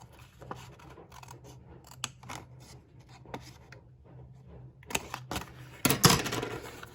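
Scissors snip through paper while envelope pockets are made for a junk journal, with a run of soft close cuts, quick diagonal snips and a louder burst of cutting near the end, no talk.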